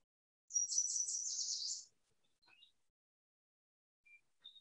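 A yellow warbler sings one bright, rapid song phrase, clear and fairly close, followed by a few faint, scattered chip notes in otherwise quiet surroundings.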